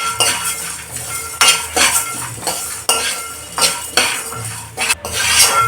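A utensil scrapes and clinks in a pan while cumin, cinnamon, cardamom and dry coconut fry, giving repeated close stirring strokes over a soft sizzle, with no talking.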